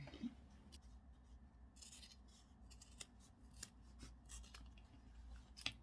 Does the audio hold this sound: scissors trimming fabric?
yes